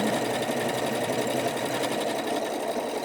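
A Janome Skyline S7 sewing machine stitches lettering, a fast, steady mechanical whir with a rapid needle pulse running unbroken and close throughout.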